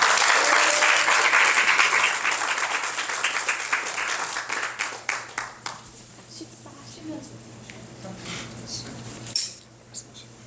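At a Korean diaspora reunion dinner, the audience welcomes a speaker with warm clapping that gradually thins into scattered claps, while cutlery and dishes clink and quiet chatter continues.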